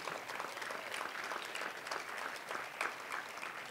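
Crowd applause at a university's new building grand opening, continuous dense clapping from many people, fairly distant and even in level throughout.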